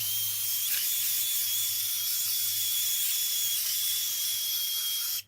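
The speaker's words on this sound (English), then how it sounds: "now I'm going to use the spray adhesive" A steady, continuous hiss of aerosol spray adhesive running for several seconds, close and loud, then cutting off abruptly.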